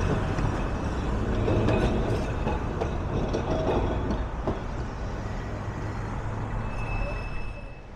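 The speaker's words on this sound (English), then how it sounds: "So I managed to capture the heritage tram there going past the North Pier." Heritage tram on the Blackpool tramway passing the North Pier on a breezy day, with a loud continuous rumble and rail clatter that fades toward the end.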